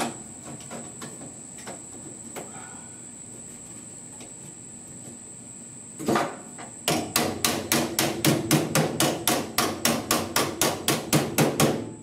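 Sharp metallic hammer blows ring out, a few scattered strikes at first, then a rapid steady series of loud, clanging hits on sheet metal being shaped with a planishing hammer for custom A/C dash vents.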